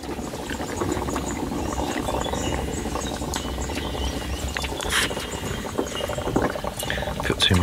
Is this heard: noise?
no